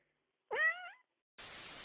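A cat gives a single clear, close meow lasting about half a second in an otherwise quiet room, followed by a burst of noise.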